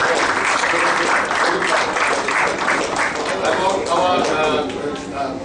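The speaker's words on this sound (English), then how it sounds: "I think it's just a round of applause for them." Applause for the tournament sponsors at the closing ceremony of the 2013 National Pool Championship: a steady, dense crowd clapping that holds at an even level for several seconds before easing slightly at the end.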